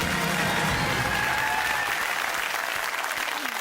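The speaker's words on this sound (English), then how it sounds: "Big round of applause. Well done." A UK television game show studio audience applauds a contestant's correct answer with a full, dense burst of clapping that holds steady and tapers slightly toward the end.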